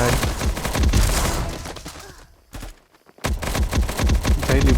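Rapid bursts of P90 submachine gun fire in the shooter Bullet Angel, close and loud, crackling in a steady stream, cutting out briefly for about a second, then starting again.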